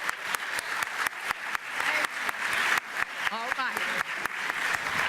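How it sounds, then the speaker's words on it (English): Librarians receive a round of applause at a school district recognition event, with a crowd clapping continuously in a hall at moderate volume while a voice speaks briefly over it. "let's give them a round of applause."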